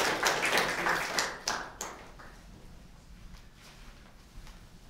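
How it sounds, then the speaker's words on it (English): A handful of scattered claps from a small audience at a university economics debate, loudest in the first two seconds and then thinning out into quiet room noise. "Round of applause, please"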